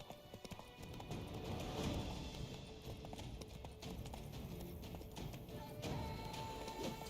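Horse hooves clip-clop steadily at a ride's pace in the Witcher 3 Blood & Wine video game, a continuous rhythmic trotting close up, with occasional faint game sounds and no clear speech.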